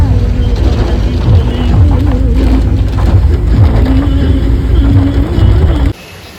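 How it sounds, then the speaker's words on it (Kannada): Rain falls steadily in Kukke on a cold day, a loud, dense wash that continues for about six seconds and then cuts off abruptly to near quiet. "ಮಳೆ ಬೇರೆ ಬರ್ತಿದೆ"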